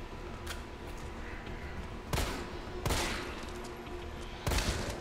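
Shotgun blasts in the video game Resident Evil 3 Remake, three heavy booming shots spaced about a second or more apart over a steady background rumble, no talking.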